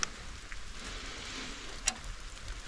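Cold rain falls as a soft, steady hiss outdoors in Georgia, a faint continuous wash with a couple of sharper drip ticks, no voices.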